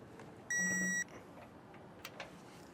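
A single clear electronic beep from a torque wrench reaching set torque while tightening a weight distribution hitch, about half a second long, sounds over quiet background noise, followed by a couple of faint clicks.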